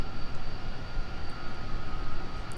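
A Northwest Airlines Airbus A330-300 taxis at Minneapolis–St. Paul airport, its engines giving a steady, even broadband roar with a faint whine held throughout.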